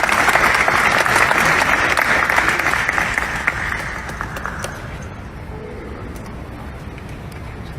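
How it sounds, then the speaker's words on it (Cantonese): Loud crowd applause at the Hong Kong Film Awards nominations announcement, a sustained dense roar of clapping that fades after a few seconds into quieter room noise. "好，我哋再次熱烈掌聲，"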